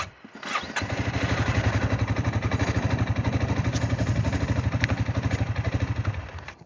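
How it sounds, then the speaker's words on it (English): A motorcycle is kicked on and runs briefly while its oil drains during a first oil change at 634 miles. The engine fires up, then idles with a fast, steady, close chug for about five seconds before cutting off. "I will kick the bike on while it's draining just to pull any excess oil out"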